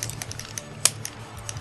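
Loud GameCube controller buttons clicking in quick, irregular taps during a WWE Day of Reckoning 2 match, with one sharper click standing out among faint, close clatter.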